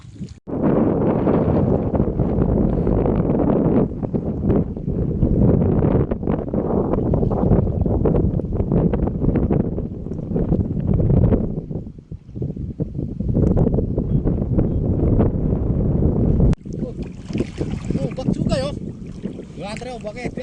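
A ferry crossing the open sea in rough waves, with steady loud wind buffeting the microphone and a constant rushing drone that drops briefly mid-way. The noise then shifts to a brighter, hissing wash near the end.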